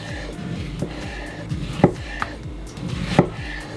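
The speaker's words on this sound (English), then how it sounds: "now I'm gonna just slice up the tomato and cook off those burgers" A knife slicing a tomato on a cutting board, giving a soft, regular series of close taps with a few sharper knocks, no voices.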